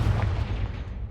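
A Confringo spell blast in the video game Hogwarts Legacy, a deep, heavy boom with a rumbling low body that fades away over about a second.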